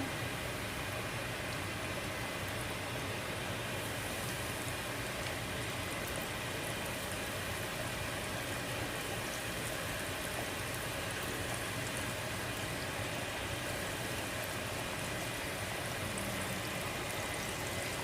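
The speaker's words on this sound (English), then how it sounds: "our grease is hot from the fries, and we're going to start just sticking our steak in." Steak frying in hot grease: a loud, unbroken sizzle and crackle that holds steady throughout, with no voices.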